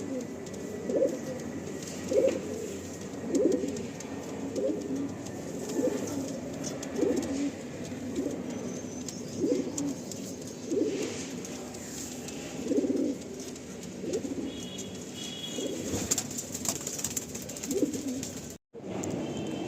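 Tournament-quality pigeons cooing in a loft: a steady run of soft, repeated coos, fairly close and continuous, with low background hum.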